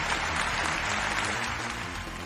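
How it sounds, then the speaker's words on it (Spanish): Dense crowd applause sound effect from the video game The Messenger, a steady wash of clapping that holds loud and even for about two seconds, with no talk over it. "Esto es un aplauso, hombre."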